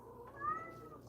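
A female calico cat in heat gives a drawn-out meow, moderately loud and fairly close, rising and falling over about a second against a low background hum.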